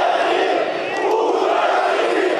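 Factory workers in Minsk boo Lukashenko, a dense crowd roar of jeering voices that stays loud and steady throughout without any single speaker standing out.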